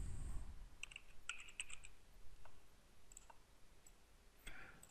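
Quiet computer keyboard typing while entering a word into an animation program, a handful of light scattered clicks over a faint room hiss.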